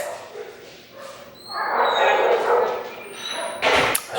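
A Mastiff puppy lets out a burst of high yips and whiny barks nearby, rising midway and followed by a thump, with people talking around it.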